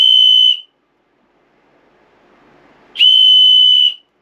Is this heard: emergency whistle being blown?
yes